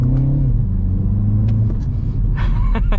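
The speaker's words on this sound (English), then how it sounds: "we're gonna drive it around over here, and we're gonna shift it ourselves" A 2025 Mini Cooper JCW front-wheel-drive hot hatch in go-kart mode drones under a loud, constant engine rumble that dips slightly in pitch as it shifts, followed by a few light clicks near the end.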